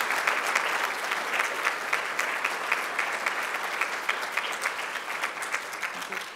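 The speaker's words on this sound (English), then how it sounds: "I'd like if we could have a round of applause for our team in the back there." Steady audience applause fills a room at an MLK Day employee celebration breakfast, dense and sustained with many hands clapping at moderate distance throughout.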